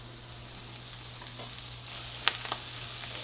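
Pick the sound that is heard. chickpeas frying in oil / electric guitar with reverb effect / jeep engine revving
chickpeas frying in oil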